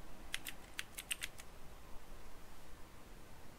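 Typing on a computer keyboard during Windows 10 setup, a quick burst of light, faint key clicks in the first second and a half, then low steady background hiss.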